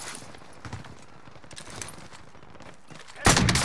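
Sniper rifle shot in a video game, a sudden loud crack near the end after a stretch of quieter game sounds and faint footstep-like taps.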